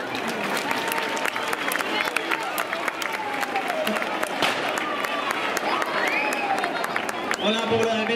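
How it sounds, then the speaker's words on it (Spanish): A festival crowd in Albelda de Iregua applauds a speaker, with dense sustained clapping and scattered cheers and voices mixed through it, loud and continuous. "Un aplauso para él."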